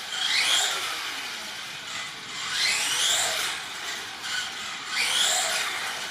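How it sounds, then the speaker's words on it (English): Plastic-on-metal scraping from the wheel of an X-Rider Flamingo 1/8 2WD RC tricycle rubbing its side bar at full lock, heard in three close rasping sweeps with a steady motor whir underneath. "it just scrapes on that bar on the side"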